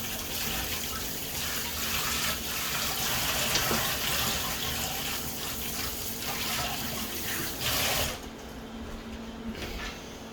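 Tap water runs steadily into a sink while olive oil is rinsed off during steak preparation, a continuous close wash that cuts off abruptly near the end, leaving a quieter room.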